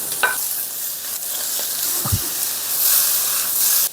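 Vegetables stir-fried with chili powder over high heat hiss and sizzle in the pan, with a couple of brief utensil scrapes and knocks; the sizzle swells louder toward the end.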